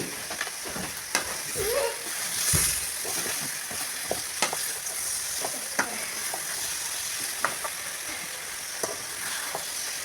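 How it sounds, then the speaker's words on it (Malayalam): Chopped bilimbi fries in a pan and is stirred, a steady sizzle with close scraping and clinking stir strokes scattered throughout. "ഇതെല്ലാം കൂടി നല്ലോണം ഇളക്കി മറിച്ചാണ്"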